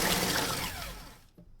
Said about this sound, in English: get the food processor and do up the pork rinds